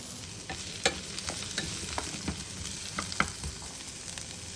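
Zucchini, onion and asparagus stir-fry in brown rice oil in a preheated pan, giving a steady close sizzle broken by scattered scraping clicks from stirring; no one speaks.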